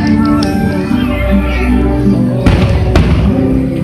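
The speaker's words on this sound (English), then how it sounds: "That's heart fireworks." Heart-shaped fireworks burst during a memorial gathering, with a couple of sharp booms cutting through loud, continuous singing and music nearby.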